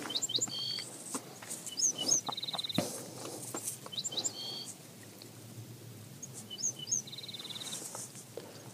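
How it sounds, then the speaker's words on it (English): Birds chirp outdoors in repeated short, bright bursts of tweets, fairly close, over a soft background patter like light rain. "Those birds are lovely."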